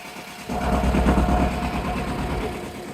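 A steady mechanical clatter with an engine drone from a tractor-driven hay rake running continuously at close range, growing louder after a brief quieter start.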